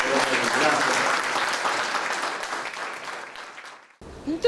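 Loud, close audience applause for visiting delegates at an art event, thick clapping that gradually fades before cutting off, followed by a brief voice.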